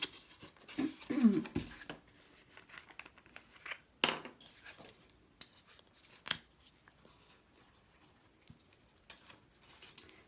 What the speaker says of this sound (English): you can just cut it with the scissors